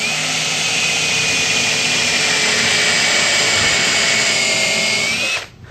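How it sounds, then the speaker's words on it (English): A power drill whines steadily at close range for about five seconds, then winds down and stops abruptly. "You would simply drill a hole."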